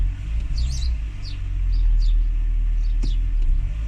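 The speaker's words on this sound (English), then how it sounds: "Right, one pump of the throttle." Renault Twingo engine rumbling after a single throttle pump during throttle body cleaning, a steady low drone that grows slightly louder, with a sharp knock and faint bird chirps overhead.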